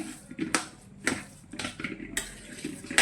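A spoon stirs a sabudana vada mixture of soaked tapioca pearls with green chilies and red chili powder in a bowl, giving several sharp clinks and scrapes at irregular intervals, close and moderately loud, with no talking.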